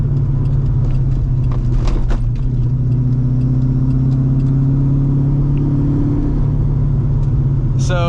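A loud cammed Corvette C5 V8 drones steadily while cruising, its deep lumpy rumble holding a sustained low tone throughout, with brief higher revving near the end.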